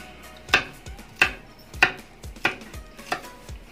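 Kitchen knife chopping and mincing garlic on a cutting board after crushing, six sharp, evenly spaced chops, close and crisp, with no talk.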